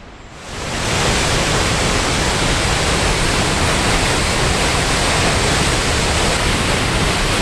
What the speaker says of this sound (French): Cascade de la Fraîche, Rallonnion de la Vanoise